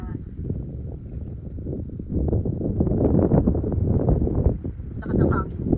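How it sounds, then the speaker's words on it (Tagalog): Strong wind blows across an outdoor vegetable garden in rural Japan, buffeting the microphone with a loud, continuous low rumble that swells in gusts. "Lakas ng hangin."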